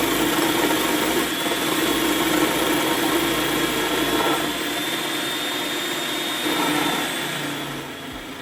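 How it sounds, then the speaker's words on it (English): A Cuisinart 7-cup continuous feed food processor shreds carrots with a loud, steady motor whine and grinding, easing slightly toward the end. "Then press the on button."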